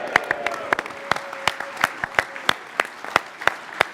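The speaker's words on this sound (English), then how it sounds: "Give yourselves a round of applause." Applause from a crowd at a Leave Means Leave rally in Westminster: loose, separate claps in an uneven rhythm, sharp and fairly near, without merging into a dense roar.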